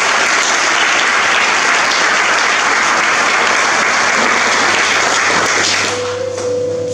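A church congregation applauds loudly and steadily, dense clapping with a few cheers filling the room, then thinning slightly near the end as a faint tone appears.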